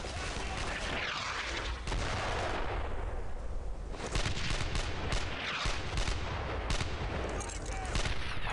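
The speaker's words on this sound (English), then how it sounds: "Friendly fire mortars." Friendly mortar fire in Brothers in Arms: Earned in Blood, a steady din of distant booms and crackling gunfire that runs throughout, loud and continuous with no clear gaps.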